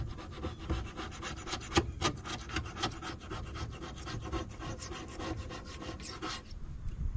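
Sandpaper rubs back and forth over a repaired hole area on the fiberglass hull of a Com-Pac 16 sailboat, a steady, close rasping scrub with rhythmic strokes lasting throughout.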